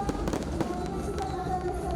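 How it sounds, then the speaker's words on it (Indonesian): Fireworks go off at the closing ceremony of the 29th National MTQ in South Kalimantan, a quick run of sharp crackling bursts and pops over a distant, hollow background. "ditutup dengan pertunjukan kembang api"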